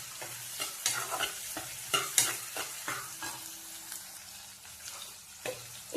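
Onions frying in oil with ginger-garlic paste and curry leaves for an aloo palya, a steady sizzle broken by repeated scraping stirs of a spoon against the pan, close and moderately loud, no voices.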